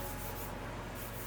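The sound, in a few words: sanding wooden walnut table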